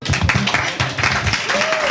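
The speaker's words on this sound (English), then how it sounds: "Welcome back. Clap it up, clap it up." A studio audience claps and applauds loudly throughout a talk show segment, a dense continuous patter under a host's voice.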